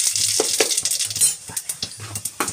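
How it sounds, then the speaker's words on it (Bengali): Radhuni seeds tempered in hot oil for a palong shak jhol, crisp close sizzling mixed with sharp clinks and scrapes of a utensil against the pan in quick irregular bursts. "দিয়ে দিচ্ছি রাঁধুনি ফোড়ন।"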